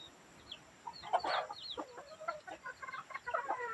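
Chickens cluck and squawk close by as a fighting rooster chases another bird, with scattered bursts of agitated calls rising and falling.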